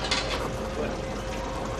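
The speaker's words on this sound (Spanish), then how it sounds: "¿Qué es eso? Un lavarropas," A washing machine in the horror video game Outlast gives a steady mechanical whirring and rattling hum, with faint clicks over a low rumble, continuous for a couple of seconds.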